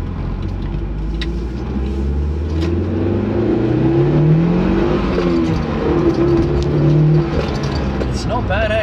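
A manual Mitsubishi Lancer Evo 8 engine hums and revs steadily throughout, its pitch rising and falling as the car is driven, heard from inside the cabin with a person talking over it.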